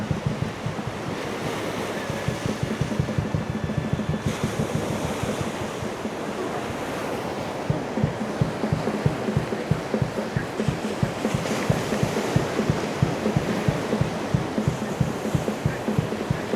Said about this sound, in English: Waves are getting big.